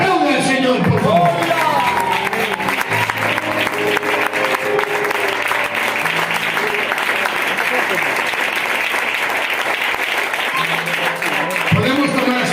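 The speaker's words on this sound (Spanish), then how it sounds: "Aplaude al Señor, por favor." Church congregation clapping for the Lord in a loud, sustained wave of applause filling the room, with voices mixed into the crowd noise throughout.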